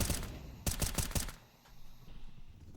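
A short burst of rapid gunfire from a Counter-Strike 2 tournament match cracks out in quick succession, then gives way to quieter game ambience.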